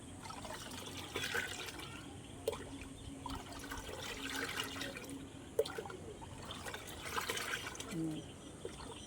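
Faint liquid gurgling and trickling as it is poured into a two-litre bottle, with a few soft knocks and a voice talking quietly in the background.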